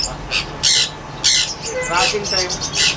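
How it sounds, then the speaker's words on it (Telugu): Harsh, shrill squawks from small conure parrots burst out repeatedly in quick succession, loud and close, with a murmur of voices underneath. "ఇవి స్మాల్ కనూర్స్ అండి"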